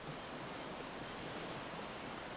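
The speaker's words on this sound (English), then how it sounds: "The waves are so gentle, and the sea is so still." Gentle ocean waves on a calm, still sea give a steady, soft, continuous wash with no clear breaks or crashes, heard alone without any voices.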